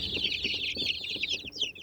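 Dense high-pitched cheeping and soft clucking from a crowd of young chicks, continuous and close.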